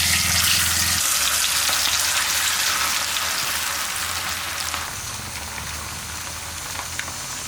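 Karimeen fish frying in hot oil, a steady close hiss of crackling and spattering oil, loud at first and easing slightly later on, with no voices.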